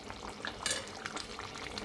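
Soya chaap simmers in a pot on a home stove, giving a soft bubbling, sizzling wash with a few light metallic clinks of stirring, quiet and close, without any talking.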